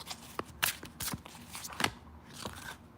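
Tarot cards being shuffled by hand, a few soft riffling and flicking bursts in close, quiet succession with no talking.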